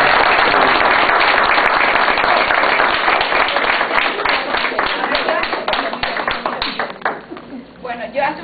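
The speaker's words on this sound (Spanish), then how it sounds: "me gustaría que por aplauso." Applause from an assembly approving a motion at an extraordinary meeting: dense, sustained clapping from many people that thins and scatters toward the end, with some murmuring voices mixed in.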